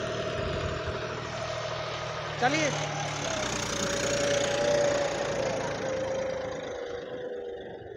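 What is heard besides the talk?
Sonalika Tiger 55 tractor engine pulling a cultivator at 1600 RPM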